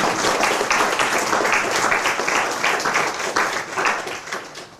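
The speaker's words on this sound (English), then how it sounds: "let's give them a round of applause." A charity evening audience gives a warm round of applause, many hands clapping in a loud, dense burst that holds steady and then begins to taper off.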